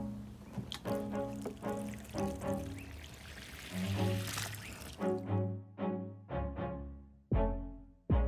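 Water pours to fill a plant watering table used for Venus flytraps, a gushing, splashing stream at first that gives way to lower, intermittent gurgles and splashes.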